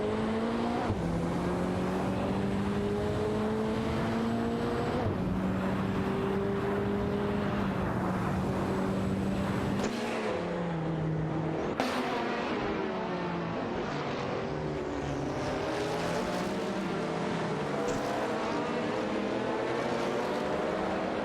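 Racing game cars, a Ferrari and a Chevrolet Corvette IMSA GTO, engines droning and shifting pitch as they compete, steady loud revs rising and falling through gear changes, with no voices.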